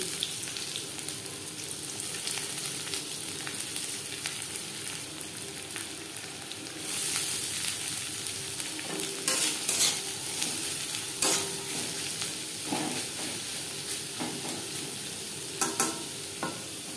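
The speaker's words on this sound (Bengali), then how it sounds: "তেজপাতা ভেজে নেওয়ার পর দিয়ে দেবো পেঁয়াজ কুচি।" Chopped onions frying in mustard oil with bay leaf, a continuous close sizzle with repeated stirring and scraping of a spatula in the pan, no talk.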